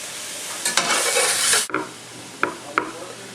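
Sausage cooks in a pan for a stir fry: a loud burst of sizzling hiss that cuts off abruptly, then quieter frying with two sharp clinks of a utensil, heard up close.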